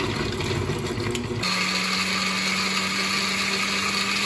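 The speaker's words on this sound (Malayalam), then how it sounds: "വറുത്ത് വെച്ചിരിക്കുന്ന മുളക് നമ്മൾ ഇതിനകത്തോട്ട് ഇട്ട് മിക്സിയിലിട്ട് ഗ്രേവി അടിച്ചെടുക്കുക" A kitchen mixer grinder blends fried chillies with a glass of water into a gravy, a loud steady motor whine that runs unbroken, its pitch shifting and settling after the first second and a half.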